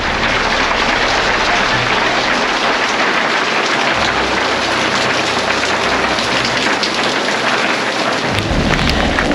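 Heavy rain pouring down in a dense, loud hiss, with deep thunder rumbling low underneath through most of it, during a hailstorm at Mesa Verde.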